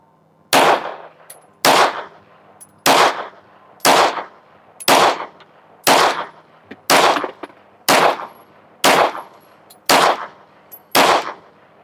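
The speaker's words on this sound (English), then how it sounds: "we're going to shoot a 10-shot group at the top left target" Ten evenly spaced gunshots ring out one at a time at roughly one-second intervals, each a loud, sharp crack with a short tail, fired at a target using Steel Valley Casting reloaded ammunition.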